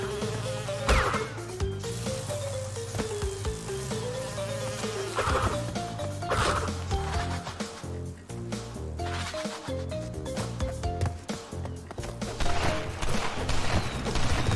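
Bees drone on steadily throughout a Crash Bandicoot N-Sane Trilogy level, a persistent buzz mixed with the game's music, jumps and crate-breaking effects.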